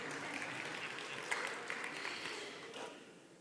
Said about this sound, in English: So clap again.